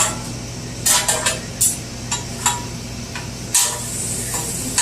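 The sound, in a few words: Philly cheesesteak and provolone cooking on a grill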